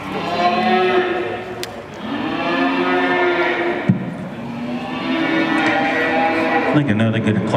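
Red Poll heifers moo repeatedly at a cattle show, long drawn-out lowing calls overlapping one after another, loud and close with a brief knock midway and a busy show-ring background.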